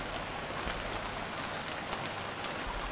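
Steady rain falls in the survival video game Stranded Deep, a dense, even hiss of drops pattering on surfaces throughout, with no talking.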